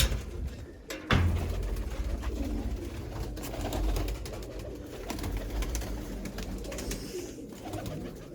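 Large pigeons in a loft give soft, repeated cooing, fairly close, over a steady low background murmur with a sharp knock near the start.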